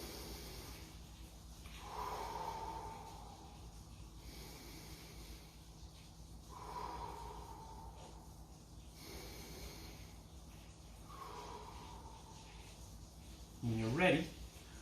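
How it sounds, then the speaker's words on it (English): Deep, slow breaths drawn during a seated shoulder stretch in a jiu-jitsu mobility workout, three long inhale-exhale cycles with a soft whistling edge, then a brief louder snort near the end. "So we pull and we'll take a few big deep breaths"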